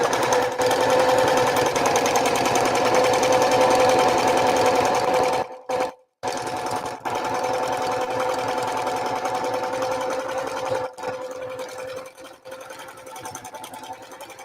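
A sewing machine stitches a placemat pouch with a steady, humming whir that runs almost nonstop, pausing briefly once near the middle before carrying on at an even pace.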